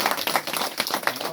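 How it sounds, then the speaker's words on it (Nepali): Scattered hand clapping at a wedding celebration, a few sharp claps and broadband bursts over a noisy, busy background, fairly brief. "ताली"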